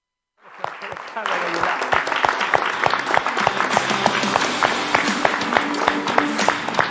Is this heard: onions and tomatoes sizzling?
no